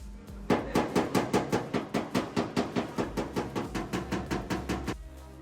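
A hammer taps out a car body dent against a PDR rod used as a dolly, about twenty close, evenly spaced metallic strikes in a steady quick rhythm with no talk.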